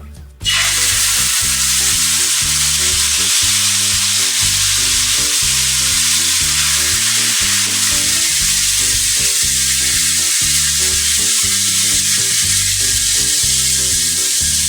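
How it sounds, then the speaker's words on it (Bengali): Spice paste dropped into hot oil in a frying pan for an egg poach curry, a sudden loud burst of sizzling that settles into a dense, continuous crackling fry, close and steady with no talking. "তেলটিও গরম হয়ে গেছে এর মধ্যে এবার আমি যে মশলার পেস্টটি তৈরি করেছিলাম সেটি দিয়ে দেব"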